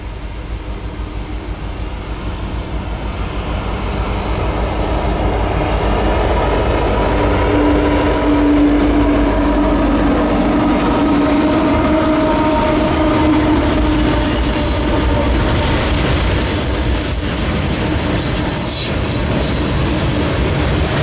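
BNSF coal train led by an ACe locomotive rolling past outdoors under a big Montana sky, a loud continuous rumble and wheel clatter lasting the whole stretch, with a steady drone and faint tonal whine from the engine.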